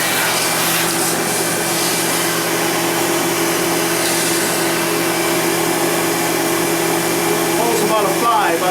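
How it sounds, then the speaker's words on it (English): A Riccar Vibrance R20 upright vacuum cleaner runs continuously, a steady, loud whining roar with a constant motor hum close by, and a voice talks briefly over it toward the end. "the Riccar American-made Vibrance R20 Ultra Premium has quite a bit more airflow performance than the Shark Rotator"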